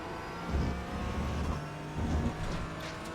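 Porsche 718 Cayman GT4 race car engine in the iRacing game at Okayama, running steady with a lift and upshift, then revs dropping as it brakes and downshifts, a continuous mid-loud drone with two surges.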